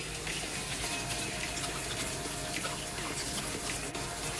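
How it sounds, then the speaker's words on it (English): Squash rinsed under a running kitchen tap, a steady close splash and hiss of water spilling over the vegetable into the sink, continuous for the whole stretch with no talking. "I'm gonna give it a quick rinse out."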